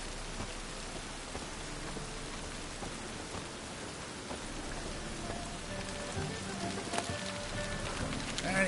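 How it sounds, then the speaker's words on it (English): Steady rain patters across surfaces in The Witcher game world, a dense, even hiss of drops with occasional louder splashes, continuous and unbroken with no voices. "And it's raining again."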